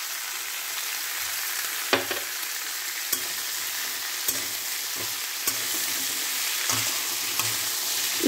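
Sambar masala spices sizzle steadily in a hot pan, with a few sharp scraping clicks from stirring now and then.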